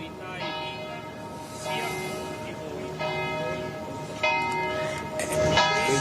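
Church bells ring at a city festival shortly after noon in a loud, steady peal with overlapping strikes recurring every second or so, voices faintly audible underneath.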